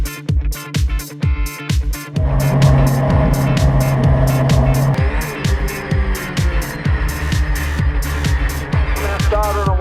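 GT race cars roar away at the start of a championship round at Phillip Island circuit, several loud engines revving hard with rapid gear-change bursts, a sustained dense engine drone building as the field pulls away.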